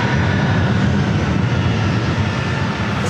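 A Delta Boeing 757-200 jet on its takeoff roll from runway 27 at San Diego airport, a loud, steady engine roar with strong low rumble, sustained and close.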